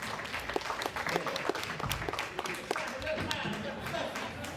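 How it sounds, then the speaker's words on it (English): A church congregation claps in a loose, uneven round of applause, individual hand claps standing out, while voices call out and talk over it. "Give yourself a round of applause for the sister woman."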